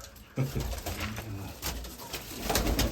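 Mykolaiv pigeons coo close by, giving a few soft rolling calls over a busy background of rustling and movement.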